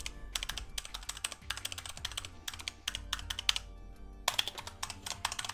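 Rapid clacking keystrokes on a Razer mechanical keyboard, typed close up in uneven bursts and flurries with brief pauses, crisp and fairly loud, no talking.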